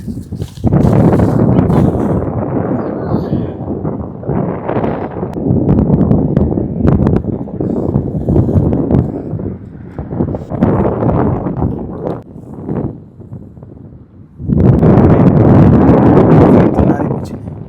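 Strong wind sweeps blowing sand across a hilltop at Badr, roaring and buffeting the microphone in heavy gusts that ease briefly and then surge again, with a voice talking at times.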